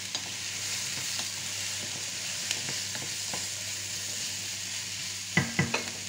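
Carrots fry in a pan with venison stew ingredients, giving a steady low sizzle while a utensil stirs with light scraping clicks, ending in a few louder knocks against the pan.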